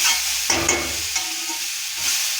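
Green beans for a North Karnataka-style palya stirred and fried in a pan, with a steady sizzle broken by a few sharp scraping strokes of the spatula, close and alone.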